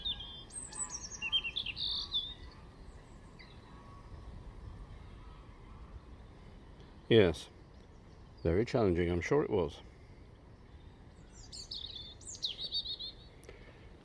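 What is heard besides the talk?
birdsong on a countryside walk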